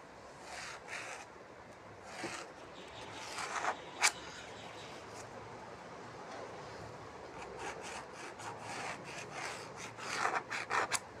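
A marker or pencil drags along a ruler across jute fabric, giving short dry scratchy strokes in bursts, close and fairly quiet, with pauses between marks and no speech.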